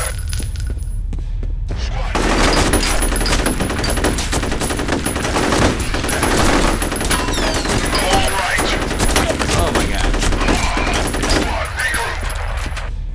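Sustained automatic gunfire in the shooter game F.E.A.R., dense rapid bursts with impacts and debris clatter filling the whole stretch, loud and close.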